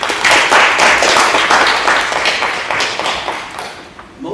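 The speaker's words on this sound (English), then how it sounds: "let's give all of them a round of applause" A loud round of applause from a graduation celebration crowd, many close hands clapping in a thick, busy wash that swells early and gradually thins toward the end.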